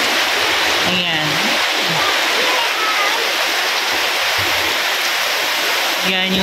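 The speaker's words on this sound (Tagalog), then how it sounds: "Ayan po guys, malakas ang ulan." Heavy rain pours outdoors near a church during a typhoon, a loud unbroken roar of water, with a voice talking faintly over it now and then.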